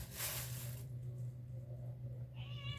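A small kitten meows twice, a short high cry at the start and another near the end, over a steady low hum.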